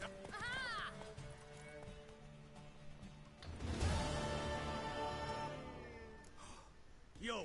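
Horse hooves clip-clopping and a neigh in The Witcher 3, game sounds layered with music and dialogue, louder in the middle section.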